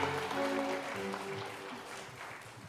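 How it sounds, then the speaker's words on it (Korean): Applause from a seated audience at an academic history conference, a steady wash of clapping held throughout, moderately loud with a faint tonal hum underneath. "큰 박수로 모시겠습니다"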